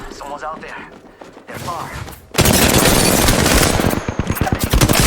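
Heavy automatic gunfire in Apex Legends erupts after brief speech, a loud, dense stream of rapid shots with thumping impacts filling the rest of the moment.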